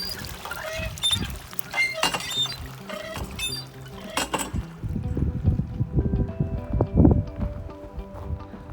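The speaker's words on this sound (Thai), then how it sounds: "น้ำไหลน้ำงามขนาด" Water flows and splashes steadily in a forest stream, with scattered knocks and bumps early on and the rushing, pouring sound swelling louder toward the end.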